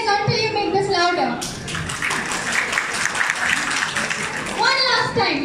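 Sustained applause from a mall crowd at a lucky-draw event, a dense, even patter of many hands lasting several seconds, bracketed by children's voices and talk at either end.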